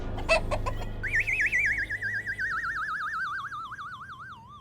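A woman mimics the clucking of an old hen, a few quick chopped syllables followed by a long warbling, wavering vocal glide that sweeps up and down and fades slowly, with no other talk.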